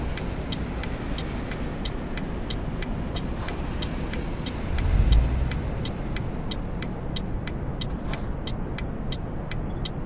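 A car approaches in the Euro Truck Simulator 2 driving game, a low engine rumble that swells to a brief peak midway over constant road noise, with a steady series of repeating clicks throughout.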